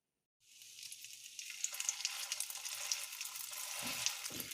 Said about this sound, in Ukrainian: на гарячу сковородку із розігрітою олією буду викладати лаваш для обжарки